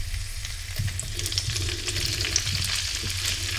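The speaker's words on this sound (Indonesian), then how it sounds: "Ini minyak untuk menggoreng tahunya dulu." Tofu fries in hot oil in a pan, giving a close, steady crackling sizzle that runs without a break and with no voices.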